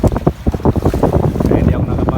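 Wind buffets the microphone on a small fishing boat tied to a payao buoy far out on the Pacific, with heavy slapping waves and hull thumps in a constant rough, choppy wash.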